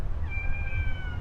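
A stray cat in Phnom Penh gives one drawn-out meow over a steady low rumble of background noise.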